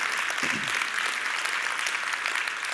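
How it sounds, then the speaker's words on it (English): An audience at a conference talk applauds, a dense, steady wash of clapping from many hands that carries on at an even level for the whole stretch, with no voices on top. "Give them a round of applause, they deserve it."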